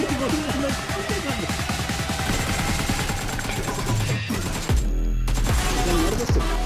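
Rapid, dense bursts of automatic gunfire from the PUBG Mobile game, loud and continuous with a short pause near the end before firing resumes.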